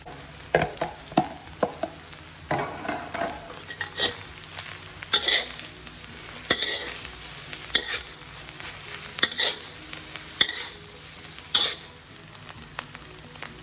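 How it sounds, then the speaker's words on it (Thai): Instant noodles and wilted vegetables are stir-fried in a sizzling pan, with a spatula scraping and clacking against the metal in irregular strokes over a constant frying hiss. "เมื่อผักเริ่มยุบตัวแล้วเราจะใส่เส้นมาม่าค่ะ"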